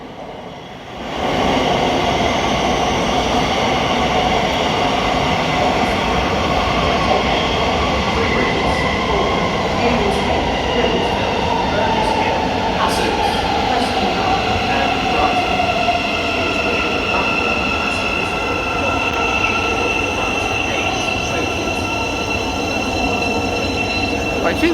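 A train in the low-level platforms at London St Pancras International, a loud steady rumble of rolling stock with wheel squeal rising partway through, continuous and close, with no talk over it.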